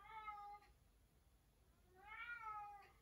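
A vocal indoor cat gives two separate meows with a pause between them. The calls are nearby but soft, and the room is otherwise quiet with no speech.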